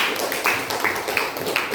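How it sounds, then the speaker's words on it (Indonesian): Students in a classroom give a round of applause for a presenting group, a continuous crowded patter of hands at moderate loudness with faint voices mixed underneath. "Sekarang tepuk tangan dulu untuk kelompok auditori"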